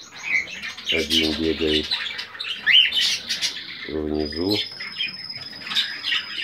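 Cockatiel parrots kept in a group of three give repeated sharp chirps and squawky calls, close and fairly loud, while someone speaks in bursts between and over the calls.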